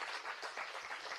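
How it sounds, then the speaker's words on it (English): Audience at a stakeholder meeting applauding as a speaker comes to the podium, a brief, dense spatter of many hands clapping at low level with no voices. "let's give him a round of applause"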